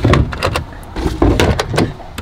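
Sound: cutlery drawer opening and closing

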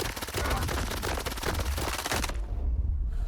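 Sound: gunshots from a rifle in a video game

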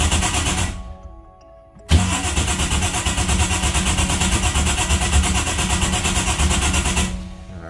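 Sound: motorcycle engine idling after being started

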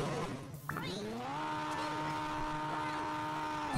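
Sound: vehicle engine starting in Hill Climb Racing 2 video game

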